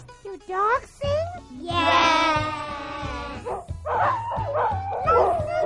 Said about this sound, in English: Nice singing, doggy.